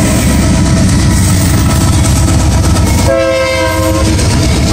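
Rumbling freight train led by a BNSF engine rolls past up close, then its horn sounds in a sustained multi-tone blast over the steady rail clatter.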